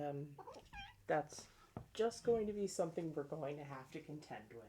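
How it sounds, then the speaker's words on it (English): A house cat meows repeatedly in the background, with several insistent, drawn-out cries rising and falling beneath a person speaking steadily at close range. "If you hear my cat in the background"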